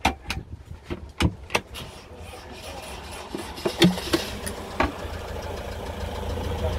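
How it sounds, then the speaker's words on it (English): Camper car's engine starting and settling into a steady, low idle at the end of a camping event, with clicks and knocks of doors and fittings nearby, fairly quiet and close, no talk. "Just set off the engine, as you can hear."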